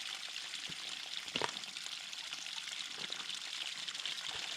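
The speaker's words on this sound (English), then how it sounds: "Let that drain out." Water drains from an outdoor farm spigot with a steady, faint gushing hiss and a few soft splashy bursts, heard alone with no talk.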